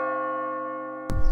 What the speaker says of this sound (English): This 10 tons bronze bell still rings today in memory of the soldiers lost.